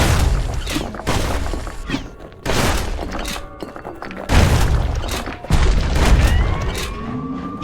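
Heavy shotgun blasts in the action game Bastion boom out one after another at an uneven pace, each a loud crashing burst with a rumbling tail, layered over dense game noise.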